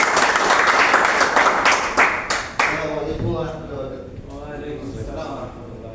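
Audience clapping to welcome a speaker onto the stage at an event, dense applause that tapers into scattered claps while a voice talks over the fading end.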